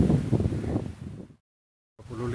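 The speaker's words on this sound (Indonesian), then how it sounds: "masih ditemani angin yang cukup kencang" Strong gusting wind buffets the microphone on a mountain hiking trail up Mount Lawu from Candi Cetho. Loud, rumbling roars cut out to a second of silence, then the wind resumes, with no talking.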